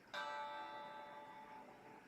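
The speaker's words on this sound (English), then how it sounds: "Turn on the Mac. Hope it still chimes." A classic Macintosh startup chime rings out once at power-on, a sustained harmonic tone that swells in suddenly and then slowly fades, clear and alone in a quiet room.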